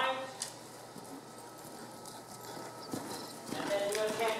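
A horse in dressage training trots and canters in an arena, hoofbeats thudding in a steady rhythm at moderate distance while a trainer talks over them.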